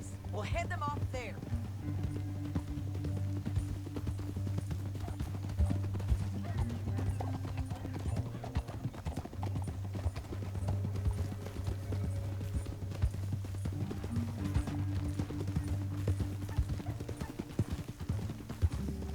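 Horse hooves clip-clop steadily through a canyon in the video game Red Dead Redemption 2, running close and continuous beneath a music bed, with voices talking over it.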